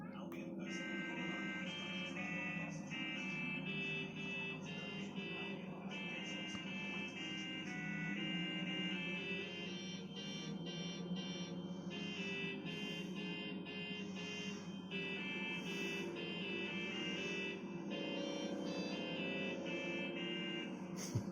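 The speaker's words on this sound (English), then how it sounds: "It's got a lovely special car horn." A green car in the video game Watch Dogs: Legion sounds a special musical horn playing God Save the Queen, a run of buzzy electronic tones in a stepped melody that continues steadily and moderately loud.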